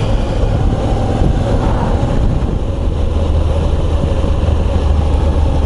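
Moto Guzzi V85 TT motorcycle engine running, a steady, fairly subdued low rumble with a quiet exhaust and a broad wash of background noise, continuous throughout with no talking.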